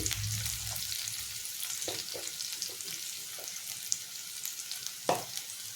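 Chili powder sizzles in hot oil in a pan with chickpeas and ivy gourd, a steady soft frying hiss with occasional stirring scrapes and a couple of sharper clinks, fairly quiet and with no talking.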